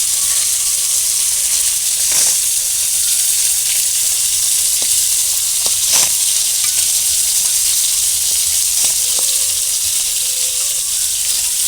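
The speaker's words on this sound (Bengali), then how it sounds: "মাছ দুটো ভেজে নেব" Two tilapia fish fry in hot oil with a loud, continuous sizzle and hiss that stays constant throughout, broken by a few faint clicks and scrapes.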